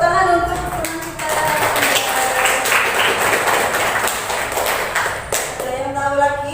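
Classmates in a school classroom clap for a fellow student, a dense burst of applause lasting several seconds that fades to quiet at the end.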